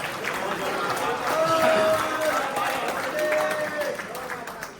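Warm audience applause at a mushaira poetry gathering, a crowd clapping steadily and swelling in the middle, heard under a host's voice on the stage microphone.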